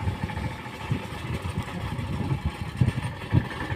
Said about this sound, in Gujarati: ટ્રેક્ટર આવી ગયું છે ચરો લેવા